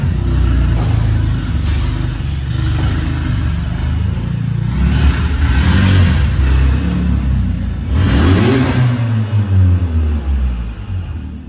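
A stock Golf TSI with a manual gearbox and a diffuser downpipe runs on a dyno, its engine revving in rising and falling sweeps, loud and continuous with a strong low rumble throughout.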